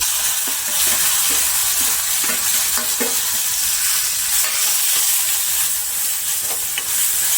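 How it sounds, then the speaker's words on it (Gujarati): Mashed eggplant olo mixture hitting a hot pan in a Kathiyawadi kitchen, loud continuous sizzling and frying with scraping stirs and clacks of a spoon against the pan. "અને હવે આપણે જે મિક્સ કરેલો ઓળો છે એ નાખી દઈશું."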